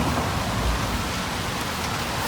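Rain comes down on a vegetable garden under trees whose tops have been cleared, making a dense, even patter close by with no one speaking.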